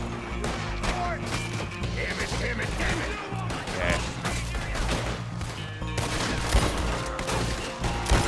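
Red Dead Redemption 2 gunfight with dense, loud volleys of overlapping gunshots, crashes and impacts over a steady low game soundtrack, and voices shouting in between.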